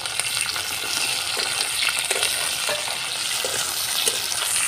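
Green chilies and capsicum sizzle in a hot frying pan, a dense, continuous crackle and hiss with faint stirring clinks, close and steady throughout.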